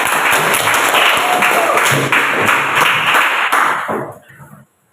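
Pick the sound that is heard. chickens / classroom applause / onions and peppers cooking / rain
classroom applause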